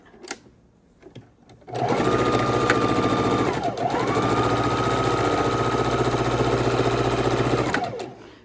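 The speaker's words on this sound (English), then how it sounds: "we're going to sew our 1/4 inch across on the sewing machine" A sewing machine sews a quarter-inch seam across quilt fabric at a steady fast stitch for several seconds, briefly dipping mid-run, loud and close, then stops; a few clicks come before it starts.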